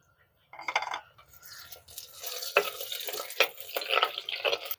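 Chopped onion and halved green chillies sauté in a pan for a Tamil ridge gourd kadayal, giving a loose run of stirring scrapes and soft sizzling with scattered sharper clinks against the pan.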